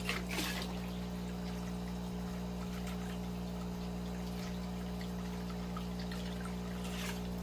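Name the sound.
water being poured into a fish tank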